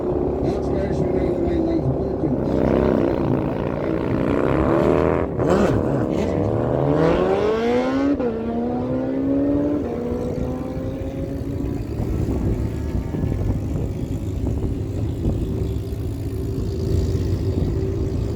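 Drag strip launch of a Harley Dyna and a 2008 Suzuki Hayabusa: loud engine roar with rising, sweeping revs through gear changes, fading into steady distant motor noise as the bikes run away, with announcer talk over the top.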